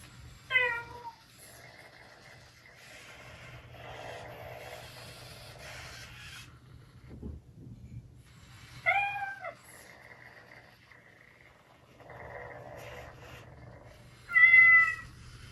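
A Chongker MateCat Pro interactive robot cat gives several short synthetic meows, spaced apart over a quiet indoor background with faint mechanical hum and occasional rustling handling noises.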